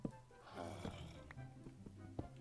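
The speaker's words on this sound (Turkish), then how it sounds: "Garip bir hırıltı duyuyorum bu arada." A zombie villager in Minecraft lets out a low, raspy growl with snorting grunts, faint and close, lasting a couple of seconds.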